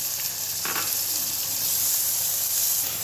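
Tomatoes and green chillies frying with golden-browned onions in a pot for kaleji, giving a steady close sizzle with a brief louder crackle burst as they go in.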